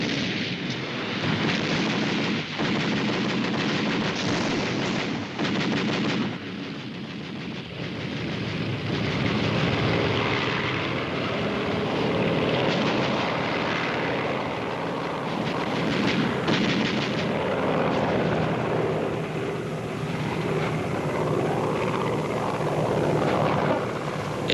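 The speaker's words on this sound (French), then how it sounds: "il va falloir déchanter devant le formidable barrage de la DCA russe" Russian anti-aircraft guns fire a dense barrage over wartime Stalingrad while aircraft engines drone overhead, making a loud, continuous roar full of blasts and rumbling.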